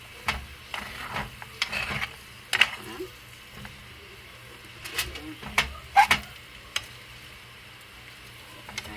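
Potato and egg stirred in a frying pan, scattered scraping scoops and light taps of a utensil against the pan over a faint low sizzle, with intermittent quiet clatter.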